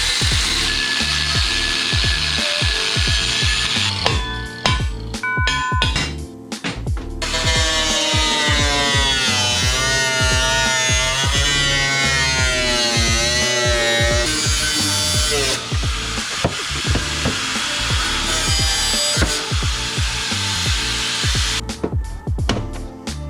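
Angle grinder cutting metal brackets during a Toyota front axle swap on a Suzuki Vitara: loud, continuous harsh grinding and whining that rises and falls in pitch, with clanking and rattling throughout.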